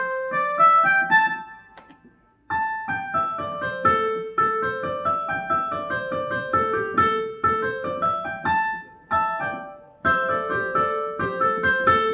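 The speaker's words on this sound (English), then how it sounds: "So that's the sound of a pentatonic scale." A pentatonic scale played on a synthesized piano in Chrome Music Lab, bright clear notes stepping up and down in quick runs, with one brief gap early on and no talking.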